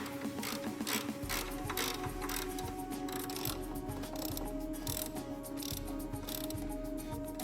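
Ratcheting wrench tightening the three shock mounting bolts on an Audi Q7 air suspension strut, a steady run of close, sharp clicking pawl ticks with a faint mechanical hum underneath.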